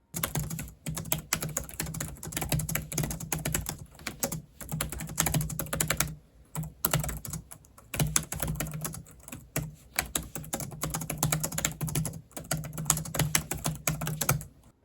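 Typing on a Logitech K380 compact wireless keyboard with low-profile keys, steady rapid soft clicks and taps in continuous bursts with brief pauses, close and clear with no talking.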